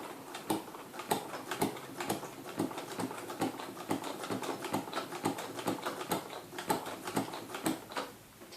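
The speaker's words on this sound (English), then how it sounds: "We are sewing through paper." Singer sewing machine stitching through paper, a rapid series of sharp, regular ticking needle strikes that run steadily and close by, with brief uneven pauses.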